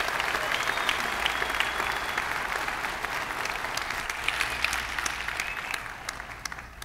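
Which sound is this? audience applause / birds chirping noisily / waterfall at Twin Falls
audience applause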